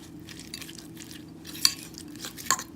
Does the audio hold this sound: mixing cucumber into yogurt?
yes